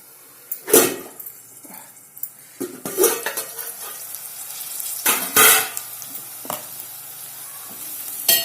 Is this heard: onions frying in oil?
yes